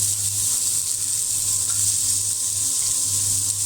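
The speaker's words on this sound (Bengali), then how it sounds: "এখন এই তেলের মধ্যে দিয়ে দেব আমি পেঁয়াজ কুচি" Chopped onion fries in hot oil for eggplant bharta, giving a steady, close hiss of sizzling with a low hum underneath. It is constant throughout and has no speech.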